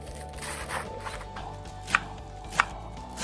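A knife chops through rolled-up spinach leaves on a cutting board, a few crisp, distinct cuts spaced irregularly near the end of the clip, close and clear over a low kitchen background with no talking.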